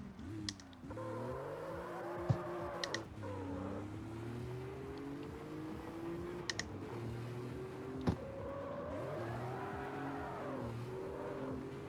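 A drift car engine in the video game CarX Street revs and shifts pitch through long rising and falling sweeps, heard steadily at moderate volume, with a few sharp keyboard clicks on top.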